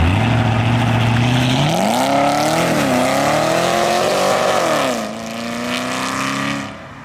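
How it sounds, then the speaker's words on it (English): A Honda Grom motorcycle, fitted with a ProCharger supercharger, does a loud, sustained burnout up close, its engine holding a high rev then climbing and wavering through several surges before easing off near the end. "The Grom burnout."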